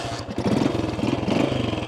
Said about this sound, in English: Here, I'll fire it up for you so you can hear this baby purr real quick.